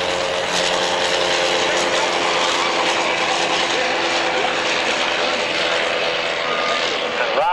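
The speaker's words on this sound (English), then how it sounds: "Here comes the triplane tearing out to catch up." Triplane engine roaring continuously at a military airshow at Old Warden, loud and close with a steady droning buzz, rising slightly toward the end as the plane passes.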